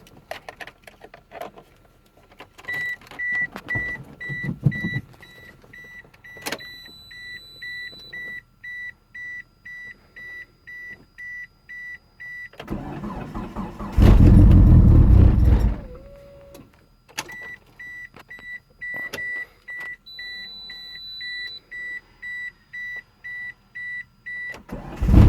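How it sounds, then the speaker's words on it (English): A 1998 Mitsubishi Eclipse GSX sits through a cold start. Repeated dashboard warning beeps and chimes are followed by a loud, roughly three-second burst of engine cranking that cuts off, then the beeping resumes. "Alright, we'll cold start here."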